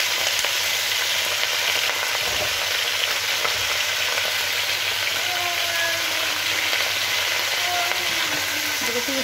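Garlic frying in a home kitchen pan, a steady loud sizzle and crackle running unbroken, with faint stirring scrapes now and then.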